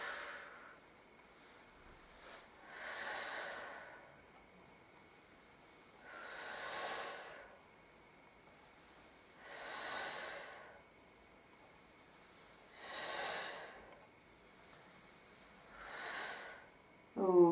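Slow, deep breaths during a floor Pilates exercise, five long airy exhales spaced about three seconds apart, close and clear over quiet background with no speech.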